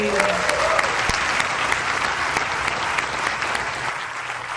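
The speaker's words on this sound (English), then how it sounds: "Another round of applause for them, please." A crowd claps steadily and loudly throughout a memorial ceremony, a dense wash of applause with no pause.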